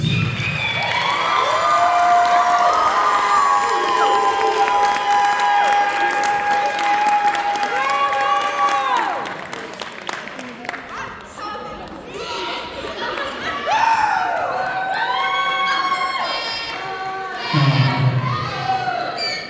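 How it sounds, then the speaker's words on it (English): An audience at a school band banquet applauds and cheers band students, sustained clapping with shouted whoops and cheers, a dip midway, then renewed cheering and chatter. "Another round of applause for these students."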